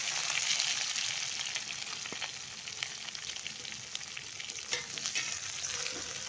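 Chopped onions go into a pan where four green chillies are already frying, and a constant loud sizzle follows. Faint scraping and stirring clicks come through now and then, with no voices.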